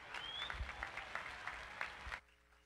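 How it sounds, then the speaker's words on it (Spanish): A church congregation applauds in a short burst of clapping with distinct claps standing out, then cuts off abruptly into near silence. "Pastor Elizabeth Torres, la aplaudimos con fuerza"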